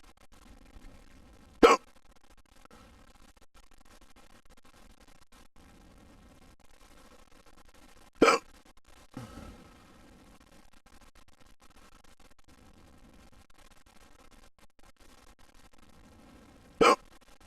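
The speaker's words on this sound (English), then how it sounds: "I think I have the hiccups again" A man hiccups in a quiet room, four sharp, isolated hiccups spaced several seconds apart, each a brief, close, sudden burst with near silence between.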